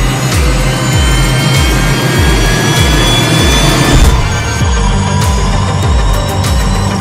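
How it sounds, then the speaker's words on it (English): The blower of a hydrogen fuel cell vehicle forces oxygen into the engine with a loud, continuous whine and a fast, regular low pulsing throb that never lets up, with no voices. "like it's the sound of a blower ramming oxygen into this side of the engine"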